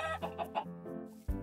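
Chickens in Minecraft cluck in several short, close, bright calls, with a louder squawk near the end.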